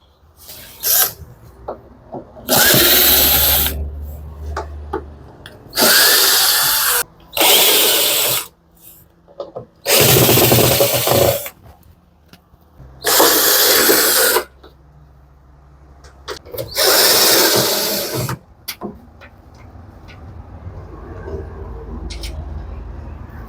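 Power drill backing screws out of a Samsung dryer cabinet, loud whirring bursts of one to two seconds repeating about six times with quiet gaps of handling clicks between them, close up and alone.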